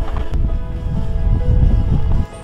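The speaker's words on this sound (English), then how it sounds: "As you can see, it's super windy right now." Strong wind buffets the microphone at a sailing harbour, a loud, steady low rumble with gusty surges and no talking, then it suddenly drops away near the end.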